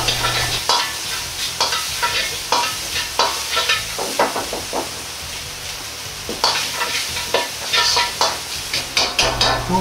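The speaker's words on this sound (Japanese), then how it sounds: "にんにく生姜を入れます 。 香りが出るようにして炒めます。" Doubanjiang, garlic and ginger stir-fried in a pan, a close, loud sizzle punctuated by steady repeated scraping and tossing strokes throughout.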